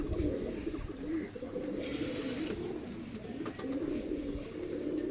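Pigeons of an old line, a recently acquired pair kept at home, coo softly and repeatedly in low, rhythmic bursts at moderate distance, with no one speaking.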